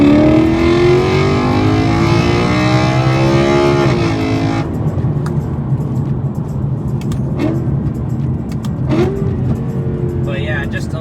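BMW E93 M3 fitted with Autobahn Exotics AE mufflers, revving loudly up and down in close repeated pulls, then settling into a rumbling idle with a few small clicks.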